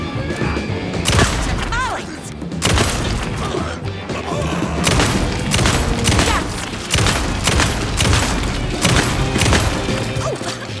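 Rapid shotgun fire in the horror game Alan Wake II, a dense run of loud blasts in quick bursts over roughly ten seconds with layered impact noise and a game soundtrack beneath.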